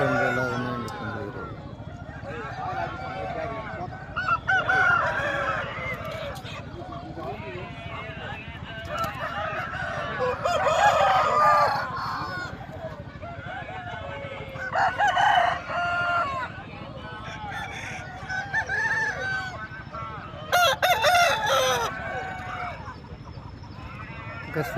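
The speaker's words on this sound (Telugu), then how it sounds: "చూసారా పుంజులు ఎలా ఉన్నాయండి పుంజులు." Roosters crow repeatedly, some close and loud, across a crowded pre-dawn Nallapadu chicken market, with people talking and bustling throughout.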